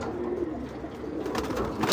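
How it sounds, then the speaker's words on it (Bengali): Pigeons kept on a rooftop coo in low, rolling murmurs that swell steadily and grow louder toward the end, with no talking over them. "জেলি কবুতর আছে আমার কাছে"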